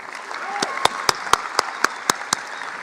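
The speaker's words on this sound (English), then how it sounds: "Let's give her another round of applause." Commencement audience applauding a student speaker at South Mountain Community College, a steady bed of crowd clapping with a few sharp, loud individual claps popping out at a regular rhythm near the microphone.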